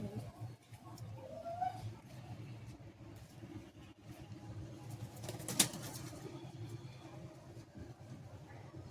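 Pigeons in a loft give low cooing and a brief burst of flapping wings over a steady murmuring background, with one sharp flutter standing out partway through.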